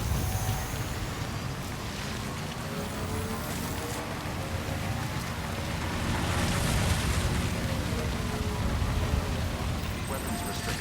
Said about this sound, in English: Fucking heckin' rain.